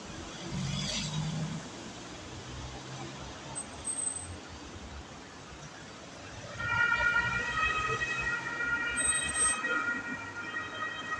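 An ambulance siren wails through steady Vienna traffic noise, growing louder in the second half as the vehicle draws closer, with its rising and falling tone clearly audible.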